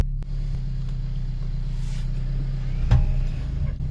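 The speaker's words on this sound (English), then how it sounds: "it's been sitting for a while, but it drives" Wrecked BMW M2 that has been sitting for a while creeping forward, a low steady rumbling engine drone close by, with a brief bump and rattle partway through.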